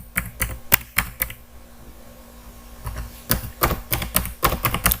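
Fingers tap on a computer keyboard in quick clusters of close, crisp keystrokes, pausing for about a second and a half before a faster run of typing.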